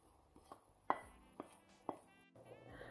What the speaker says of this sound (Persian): 20 تا دونه برگ نعنا رو ساتوری میکنیم و اضافه میکنیم